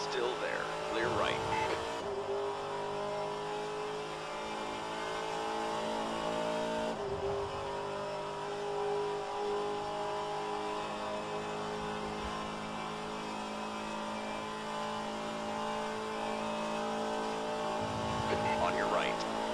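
Race cars at Daytona in rFactor 2 running in a pack, with a steady engine drone and gear changes throughout, quiet in the mix, and a couple of brief vehicle swells near the start and end.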